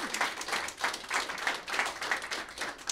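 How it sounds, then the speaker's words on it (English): A small newsroom audience claps for a band in a brief round of applause, the claps fairly quiet and close, with no one talking. "maybe you should give them a round of applause just for coming in,"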